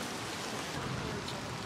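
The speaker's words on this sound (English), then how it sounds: "The rain is back." Rain pours steadily at night in Savannah, Georgia, a dense, constant hiss of drops with no pauses across the short stretch.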